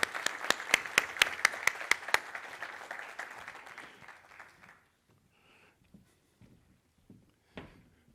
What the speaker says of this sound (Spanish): Un aplauso aquí para Felipe de agradecimiento y de reconocimiento